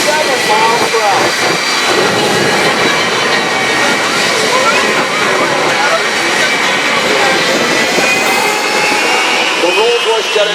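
Jet truck fitted with a Rolls-Royce jet engine once used by British Airways, at an airshow: a loud, steady roaring jet whine fills the whole stretch with no letup, with voices faintly mixed in beneath it.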